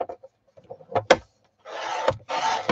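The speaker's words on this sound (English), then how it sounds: "I'm going to trim this to 9 inches." Paper pages for an envelope journal are trimmed to size by hand, with soft taps and scrapes followed by two long, close rasping strokes of the trimmer blade drawn through the paper.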